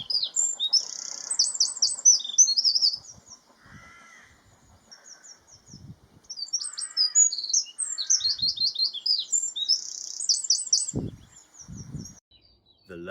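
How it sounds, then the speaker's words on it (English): A wren sings in spring woodland, a rapid, high, machine-gun-like trill repeated in loud bursts, with other bird calls and low thumps between the phrases. "the rapid, machine gun-like blast of the wren"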